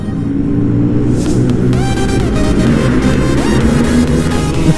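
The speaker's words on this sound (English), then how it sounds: "Listen to that KTM rumble." Loud, steady engine rumble from a KTM dirt bike on a group street ride, mixed with other motorcycle engines revving and rising in pitch nearby, continuous throughout.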